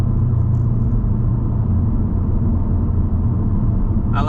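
Steady, loud drone of a Mercedes CLK550's M273 V8 at about three-quarter throttle on a smooth road, a continuous low rumble with road noise, no voices.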